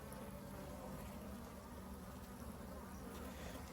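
Honeybees swarm around an opened beehive, giving a dense, continuous buzzing hum that stays steady and close for the whole moment.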